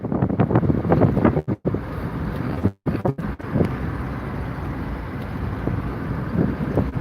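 Wind buffets the microphone outdoors on a nice day, a loud roaring rumble with a few sharp dropouts and gusts that then settles into a steadier rush.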